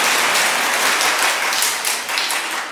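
A church congregation applauds and cheers together, a loud, dense wash of clapping that continues steadily and fades slightly toward the end.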